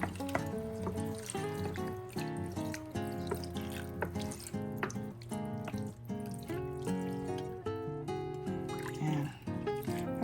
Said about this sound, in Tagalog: So, lalagyan natin ng tubig.